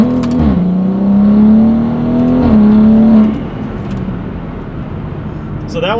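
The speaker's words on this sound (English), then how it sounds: "you can just hear it building boost and then it launches" Gen1 B58 engine on rolling anti-lag drones loud and steady, its pitch holding while boost builds, then the tone drops away into a rougher broadband roar as the car launches, with a brief hissing burst at the end.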